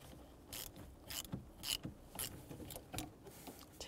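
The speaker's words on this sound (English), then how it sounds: "Use a 10 millimeter socket" A ratchet with a 10 millimeter socket clicks in short bursts of rapid ticks, pausing between strokes, as it loosens the negative battery terminal on a Chevy Cobalt; close and fairly quiet.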